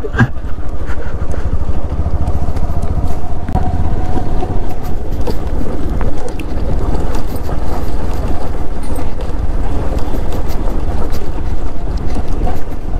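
A motorcycle rides off-road on a rough trail toward Ananthagiri Hills, with loud, continuous engine roar and rushing wind buffeting the microphone for the whole stretch. No one speaks.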